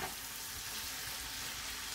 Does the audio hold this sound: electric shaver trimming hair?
no